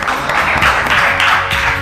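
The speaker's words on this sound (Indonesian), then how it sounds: "Kasih tepuk tangan." Classroom audience applauding a student group after its presentation, steady dense clapping throughout, fairly loud and close, with no talking.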